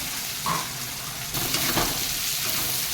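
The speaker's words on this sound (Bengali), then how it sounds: "একটু ভাজা ভাজা হোক" Potatoes and spices fry in a pan with a soft, continuous sizzle, then brighter scraping and stirring noises in the second half, all close by with no talking.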